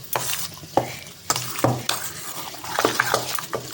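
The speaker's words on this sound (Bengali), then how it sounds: "ভালো করে ডিমটাকে সুন্দর করে ভালো করে তোমরা পুরোটার সাথে মেখে নিতে হবে।" Raw chicken pieces being mixed with egg by hand in a bowl for kasundi chicken pakora: wet, squelchy stirring and mixing noises in irregular bursts with occasional utensil clinks, close and moderately loud, no talking.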